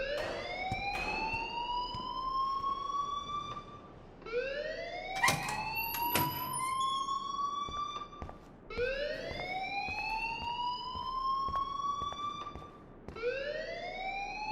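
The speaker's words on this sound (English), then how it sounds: "please turn off that alarm since that's your job" Alarm siren in the video game Life is Strange, a loud rising electronic wail repeating in long sweeps about every four seconds, with a few sharp clanks between cycles and no talk.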